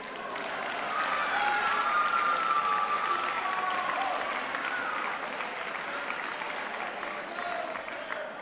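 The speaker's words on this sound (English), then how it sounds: "A round of applause to the Drew softball team" Sustained audience applause fills an awards ceremony for college athletes, a dense steady wash of many hands clapping at close range for the whole stretch, with no talk over it.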